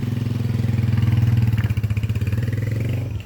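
A motorcycle engine idling and then shifted into first gear: a steady, loud, close low-pitched putter with a rhythmic pulse that dips briefly mid-clip before settling back into its chug.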